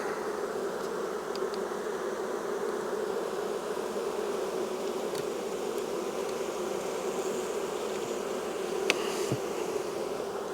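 Honey bees from a caught swarm buzz in a steady, dense drone that fills the whole stretch at an even level, with a few brief higher buzzes of single bees passing close near the end.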